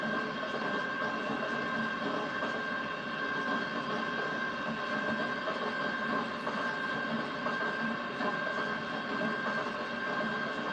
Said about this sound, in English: God, those clanking noises are terrible sounding in here.